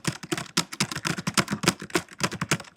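Rapid, steady typing on a computer keyboard, with dense, even key clicks at close range and no voices.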